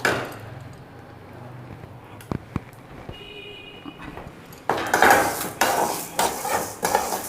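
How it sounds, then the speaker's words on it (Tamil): Urad dal being roasted in a pan, with scraping and clinking of a metal spoon against the pan that grows louder and more frequent in the second half. "உளுத்தம் பருப்பு, அதை வந்து நல்லா சிவக்க வறுக்கணுங்க"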